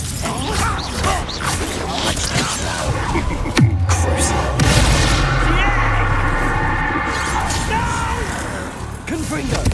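Confringo fire spell explosions in the video game Hogwarts Legacy, a heavy booming blast with rumbling aftermath, mixed with game voices and effects.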